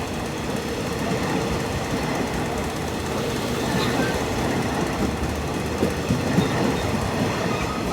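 Hitachi 4501 locomotive hauling a train along the rails in Thailand, a loud, continuous rumble with rolling wheel noise and faint rhythmic clatter, steady throughout and close by.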